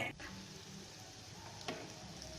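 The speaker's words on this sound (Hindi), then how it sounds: "अब हमने करेलों को थोड़ा सा मज़ीद मैं फ्राई कर रही हूँ" Bitter gourds fry in a pan, a quiet steady sizzle with a couple of faint utensil taps.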